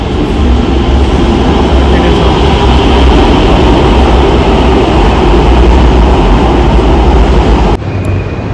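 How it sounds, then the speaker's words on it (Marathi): A city metro train pulling into a station, a loud, steady rumbling roar filling the platform for several seconds before cutting off sharply near the end. "बघा एक मेट्रो आली आता"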